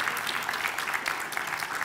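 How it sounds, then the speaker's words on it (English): An audience at a junior chef competition awards event in the Shannon region gives a short, steady round of applause, with dense, moderately distant clapping. "Give Conor a big round of applause, folks."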